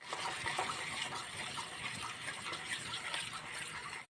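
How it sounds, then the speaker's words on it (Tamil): Water pours steadily into batter in a continuous rushing stream, fairly quiet and unbroken, cutting off abruptly at the end. "நல்லா தண்ணி ஊற்றி நல்லா கலக்கி வச்சுக்கலாம்"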